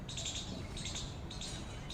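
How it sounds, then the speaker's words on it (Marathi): Birds chirp in short bursts of high tweets around a rose garden, a faint, repeated twittering over a soft background hiss. "पक्ष्यांची किलबिलाट ऐकायला येते"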